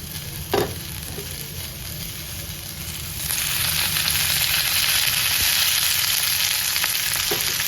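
Onion frying in oil over a high gas flame: quieter stirring and scraping at first, then the sizzle jumps louder and stays as a dense, steady crackle close by.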